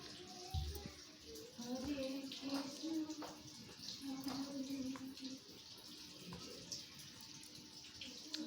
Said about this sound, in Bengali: এগুলো এখন জলে দেবো আমগুলো